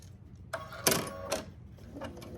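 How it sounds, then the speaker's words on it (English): A sewing machine runs in short bursts while chain piecing quilt block pieces with a quarter-inch seam for half square triangles, its quick mechanical whir close and fairly quiet, with no talking. "I'll line it up with my sewing machine to where I am stitching a 1/4 inch on each side"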